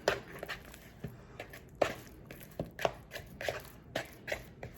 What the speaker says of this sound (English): Grab our dough ball, put it in there, and just toss it around and coat it in the oil